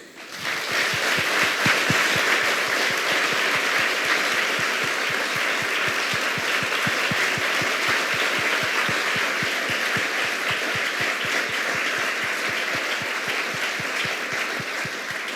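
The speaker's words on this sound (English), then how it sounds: "Can we have another round of applause?" An audience at an awards show gives a round of applause, a steady sustained wash of clapping with a rapid regular pulse running through it, loud and continuous for the whole stretch with no talking.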